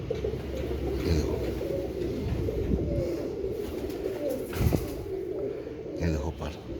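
Aseel pigeons cooing in a loft, low continuous murmuring coos close by with a brief louder rustle midway.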